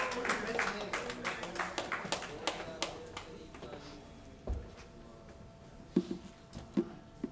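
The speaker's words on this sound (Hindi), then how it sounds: "भरपूर तालियों से स्वागत कीजिए अज़हर नवाज़ भाई का" An audience at a poetry gathering applauds the poet Azhar Nawaz: a run of sharp, scattered handclaps that thins out, with a few louder isolated claps and a low thump later on, and talk mixed in.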